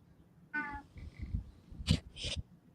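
A cat lets out one short, fairly close meow, followed by a couple of brief rustling or knocking bursts, with no talking.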